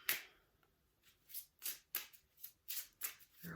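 A deck of cards being shuffled by hand: a handful of separate soft, close riffles and flicks spaced roughly evenly, quiet with no voices.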